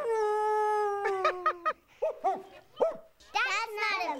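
A man imitates a dog on a children's TV show, starting with a long sustained howl and moving into a run of short yipping, barking vocalizations, loud and close, with a voice briefly audible.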